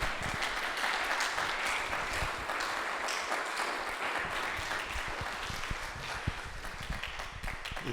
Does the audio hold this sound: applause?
yes